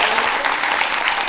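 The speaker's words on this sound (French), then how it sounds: "On va applaudir ce monsieur qui fait une entrée incroyable." A theatre audience at an improv show applauds a man's entrance with a short, dense burst of steady clapping that fills the room from start to finish.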